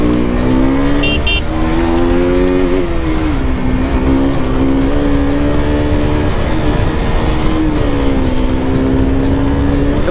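A KTM RC 200 BS6 motorcycle held at full throttle on an uphill road while overtaking, its loud, steady engine note rising and shifting in pitch as it revs continuously through the passing move, with no talking.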